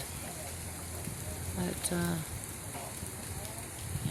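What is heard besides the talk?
rain falling outside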